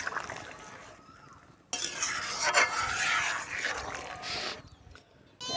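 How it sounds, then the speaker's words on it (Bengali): Ground spice paste goes into a pot of boiling fish curry, and a sudden burst of sizzling, bubbling and metal spoon clatter rises and falls before the sound drops quiet, then flares again at the end. "ঝোল ফুটে গেছে, বাটা মশলাগুলো দিয়ে দিচ্ছি।"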